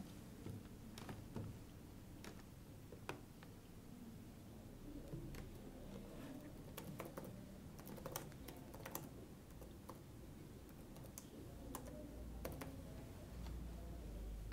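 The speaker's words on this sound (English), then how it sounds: "type whatever you wish to." Steady typing on a computer keyboard while writing C code, soft rapid key clicks continuing throughout at a faint, close level with no voices.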